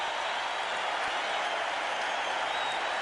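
A big arena crowd roars and applauds a Michael Jordan slam dunk at an NBA Slam Dunk Contest in the late 1980s, a dense, steady wall of cheering and clapping that holds at full strength from start to finish.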